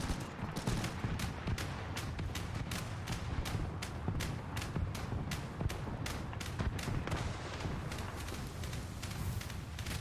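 Ship gunners fire from a vessel in a World War-era naval video game, a dense run of rapid, evenly spaced gunshots and thuds that continues loud and close for the whole stretch over a rumbling background.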